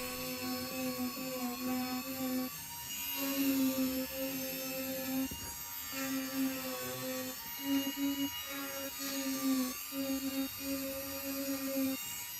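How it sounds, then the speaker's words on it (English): A small diamond multi-tool grinding a channel along a crack in a car's plastic wheel arch, a steady high whine that dips and rises with brief pauses as the tool works, close and continuous. "Next, I channel out the crack on the wheel arch using a small diamond multi-tool."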